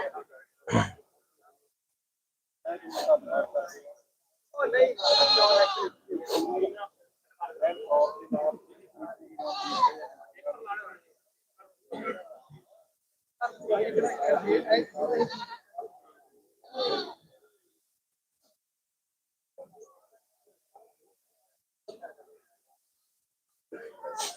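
Barbari goats bleat in scattered bursts at a goat fair in Surewala, Punjab, with voices and short gaps of quiet between calls.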